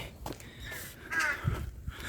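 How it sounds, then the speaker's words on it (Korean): A crow caws a few times on a sloping mountain trail on Achasan in Seoul, the calls moderately distant over faint footsteps and outdoor ambience. "까마귀가 울고 있네요."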